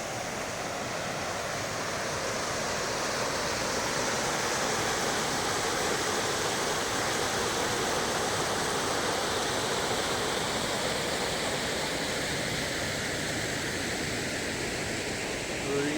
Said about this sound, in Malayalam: ഇവിടൊക്കെ പൊട്ടി പൊളിഞ്ഞ് വെള്ളം ഒഴുകുന്നുണ്ട്